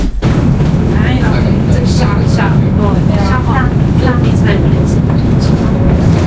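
Inside a moving train in China, a loud steady rumble of wheels and carriage fills the cabin, with rhythmic clacks and ongoing chatter from passengers nearby.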